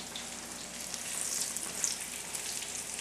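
Chicken piccata pieces frying in a pan, a steady bright sizzle and crackle held at an even level throughout, fairly close and with no talking.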